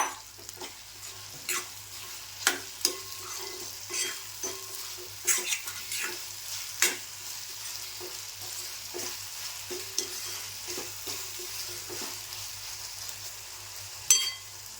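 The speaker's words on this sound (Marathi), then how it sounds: "आता आपण कोळंबी टाकून घेऊया. ती सुद्धा परतून घ्यायची जरा." Shrimp sautéing in a pan with softened onion and tomato for a green-masala prawn curry, a steady quiet sizzle broken by repeated sharp scrapes and clinks of stirring, close and fairly faint, with no talking.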